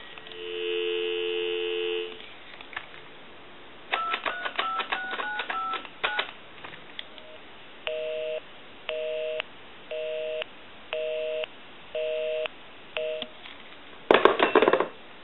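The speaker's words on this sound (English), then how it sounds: "We'll give you some dial tone." A repaired, converted French PTT telephone gives a steady dial tone, then a quick run of touch-tone dialing beeps, followed by a repeating on-off ringing or busy signal, ending in a noisy click.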